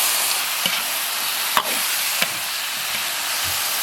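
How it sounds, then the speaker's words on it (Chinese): Peppers stir-fry with minced pork in hot oil, a steady sizzle broken by a few sharp scrapes and knocks of a spatula against the wok, close and loud with no talking. "炒香以后下入乐子"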